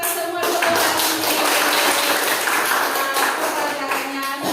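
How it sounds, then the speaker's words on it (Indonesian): A classroom of students claps together in a sustained burst of applause, dense and steady throughout, with a teacher leading the group in a lesson setting. "Kita beri tepuk tangan untuk kita semua dulu hari ini."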